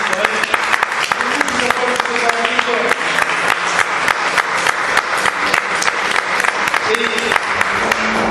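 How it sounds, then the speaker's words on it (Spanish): A church congregation claps loudly in sustained, dense applause during a Spanish-language sermon, with steady rapid hand claps filling the whole stretch and voices mixed in underneath. "Dale un fuerte aplauso a Cristo."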